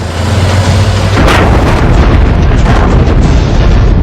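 A loud, deep explosion blasts out as an SUV bomb strikes a military convoy bus, followed by a sustained rumbling roar and debris-like noise that fills the rest of the moment.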